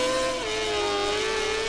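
A motorcycle engine in the racing video game MotoGP 17 drones steadily at high revs, its pitch dipping once and then holding, loud and continuous.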